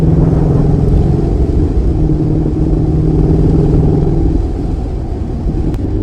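A Honda NC750X motorcycle engine hums steadily on a race track at close range, a loud continuous drone with smooth power that dips slightly toward the end.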